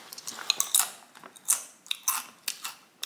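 Crunchy brown rice chips, oil-free, chewed close to the mic, giving a run of sharp, loud crackling bites in an uneven rhythm of about eight crunches with brief pauses between.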